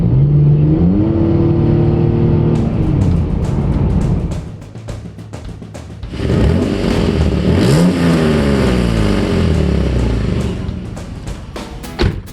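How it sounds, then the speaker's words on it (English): A 4-liter Ford Mustang engine with a replaced exhaust revs repeatedly up and down, loud and close, with a rasping tone, dropping to a rough idle midway before climbing through more revs and settling again. "So the 4-liter Mustang, which this is a hard engine to make sound good."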